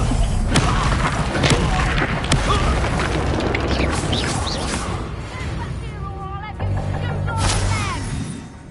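Bombarda spell explosions in the PS5 game Hogwarts Legacy, a loud, continuous stretch of booms, crashes and impacts with a heavy low rumble that eases slightly toward the end, with a voice mixed in.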